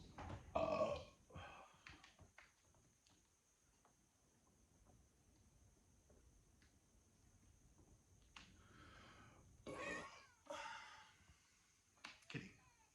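Cat meowing indoors, a few drawn-out, plaintive cries separated by long quiet gaps, one early burst, then a couple more near the end, fairly close but soft.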